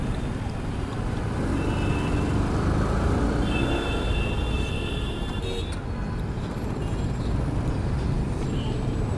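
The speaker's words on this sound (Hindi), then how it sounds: "ट्रैफिक इतना ज़्यादा है।" Heavy night-time road traffic in Delhi forms a dense, constant roar of engines and tyres, with distant horns and a faint high beeping riding over the wash.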